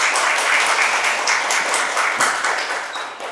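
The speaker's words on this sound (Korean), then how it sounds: "박수 부탁드립니다" Audience applause at a Korean National Assembly forum on the nursing act, welcoming a lawmaker. Loud, dense clapping from many people continues steadily for several seconds.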